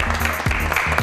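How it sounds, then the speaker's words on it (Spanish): Applause from a studio audience on a Spanish television programme, a dense, steady wash of clapping filling the whole short moment with some musical tones underneath. "Un aplauso, por favor."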